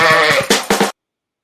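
Sheep bleat loudly and close up, three wavering calls in under a second, followed by silence.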